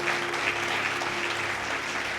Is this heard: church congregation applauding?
yes